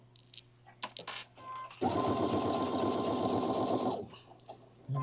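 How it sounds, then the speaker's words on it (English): A sewing machine stitches piping in one steady, loud run of about two seconds, with light handling clicks and rustles before and after. "I'm just going to lower the presser foot. And there again, it will start to sew."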